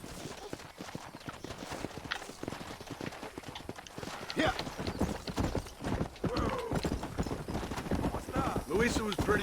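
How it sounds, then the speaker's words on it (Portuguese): Horse hooves clip-clopping in a steady galloping rhythm in the Western game Red Dead Redemption, loud and continuous, with game characters talking over it throughout. "Vamos subir neste cavalo."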